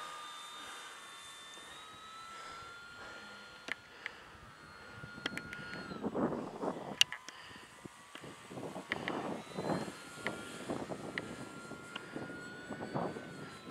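An Easy Glider RC model plane flies past, its thin motor whine faint and distant, with scattered clicks and rustles that grow busier midway.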